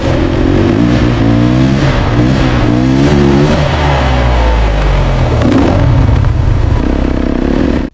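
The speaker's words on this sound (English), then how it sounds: "We're taking a dirt bike into a rocky canyon, launching over these huge rocks, landing hard, and immediately taking off again" A dirt bike engine revs hard through a rocky canyon, a loud, close, continuous roar whose pitch rises and falls with acceleration, heard alone.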